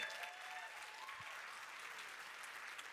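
Audience applause at a business talk, steady crowd clapping at a moderate distance, held evenly across a short stretch.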